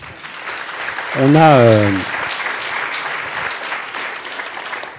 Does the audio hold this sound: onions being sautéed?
no